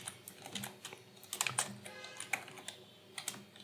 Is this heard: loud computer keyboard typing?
yes